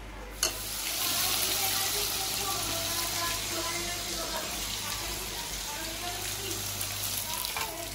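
Food fries in a pan at home with a steady sizzling hiss, moderately close, a sharp clatter near the start and a low hum running beneath.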